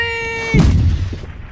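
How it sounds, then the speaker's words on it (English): A bomb explosion on a bridge in the video game Rolling Thunder, a tonal game sound cut off by a sudden deep boom that rumbles and fades over about a second. "I'm bombing the bridge."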